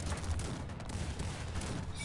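Massed musket and cannon fire in the strategy game Cossacks 3, a dense, continuous crackling volley of many shots blending into steady battle noise, with no talk over it.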